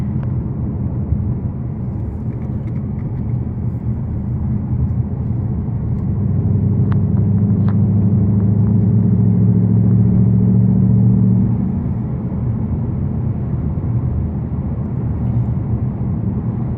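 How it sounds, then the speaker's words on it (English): A flat plane crank car engine cruises in sixth gear at 1500 RPM, a low, steady interior rumble that swells slightly midway before settling back. "here's sixth, and we're cruising at 1500 RPM, doing barely 55"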